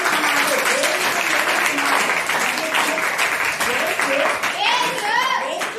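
A church congregation claps together in sustained, dense applause, loud and close, while voices and a child's chatter rise over it.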